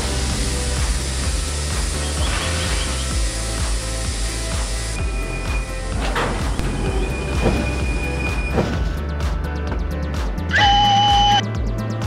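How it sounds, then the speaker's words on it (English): A train rolling past in the Trainz railway simulator game after another train has derailed: a loud, continuous rumble of wagons with wheel squeal and metallic clanks throughout, and no talking. "Luckily, another train was passing by."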